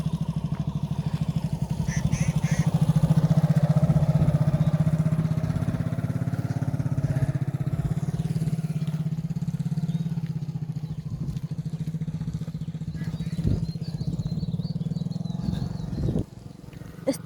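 Motorcycle engine running steadily throughout while riding along a muddy village road after heavy rain, a loud, continuous low drone with slight rises in revs and a brief dip near the end.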